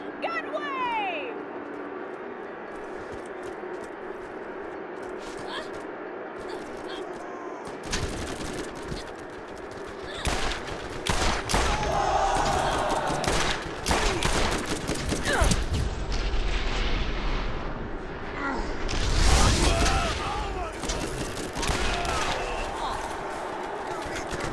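Dense gunfire and explosions from a Borderlands arena battle rattle through a long stretch of chaotic combat, with bursts of shots and booms under an ongoing layer of game effects, and someone talks over parts of it.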